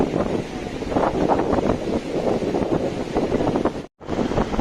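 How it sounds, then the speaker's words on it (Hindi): A river rushes near a waterfall at Harsil in the Himalaya, a loud, steady close roar of churning water with a momentary dropout near the end. "ये देखिए झरना नदी का वेग जो बढ़ा जा रहा है"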